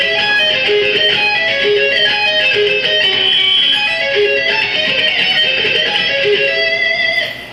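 A guitar plays slow diminished and minor arpeggios, single ringing notes following one another in an even, flowing line, loud and clear on their own.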